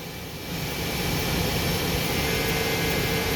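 A CNC lathe's sub spindle traverses back to its Z0 home position on a WC-302 machine, giving a steady, loud broadband whirring drone that swells in after half a second and holds evenly throughout.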